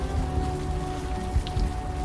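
Steady rain falling in the video game Unavowed, a continuous soft patter of drops at an even level over a low hum, with no talking.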